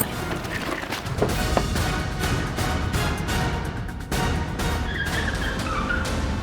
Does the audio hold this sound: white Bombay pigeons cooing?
no